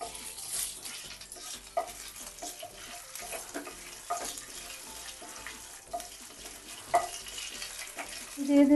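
Whole spices (dried red chili, cardamom, cinnamon, cumin) and a bay leaf fry in mustard oil, giving a steady soft sizzle with light stirring clicks, fairly near and even, with a louder crackle at the end.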